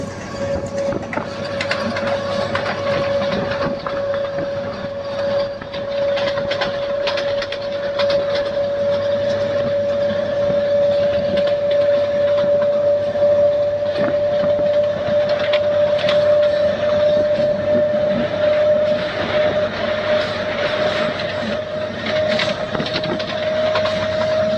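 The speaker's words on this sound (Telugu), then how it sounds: "మన ట్రైన్ కూడా ఏం తక్కువ ఫాస్ట్ వెళ్ళట్లేదు. ఆల్మోస్ట్ 75-80 దగ్గర వెళ్తున్నాడు." A MEMU train on the Vijayawada-Bhadrachalam line runs fast with a loud, continuous rumble and rattle, a steady tonal hum running throughout, heard from on board with no talk.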